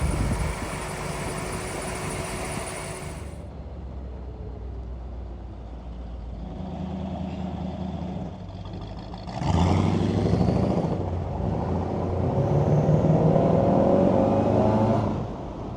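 An old 1946 Chevrolet pickup truck engine idles and rumbles, cutting to a louder revving stretch near the end, steady and close with no voices.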